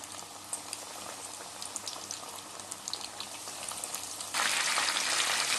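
Fish fingers deep frying in hot oil, a dense steady bubbling boil with crackling pops that grows louder and brighter near the end, with no voices.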